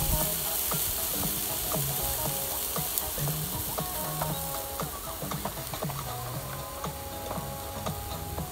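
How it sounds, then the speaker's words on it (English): Sliced bologna frying in a hot pan, a dense steady sizzle with crackling pops and small ticking spatters throughout, close and continuous with no voices. "I love that sizzle sound."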